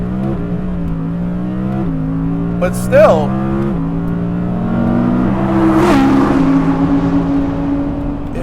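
An Audi R8 GT accelerating on a race track, its engine note climbing through gears with clear shift drops, loud and close from inside the car, while someone speaks briefly over it.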